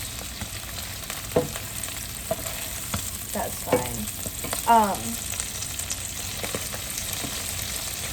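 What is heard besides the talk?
spinach frying and popping in pan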